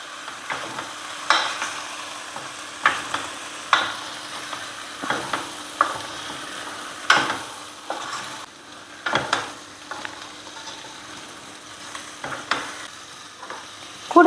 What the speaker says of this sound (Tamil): இப்போ நல்ல இந்த எண்ணெயிலேயே அதை ஒரு 2-3 நிமிஷம் நல்லா பிரட்டி எடுக்கணும்.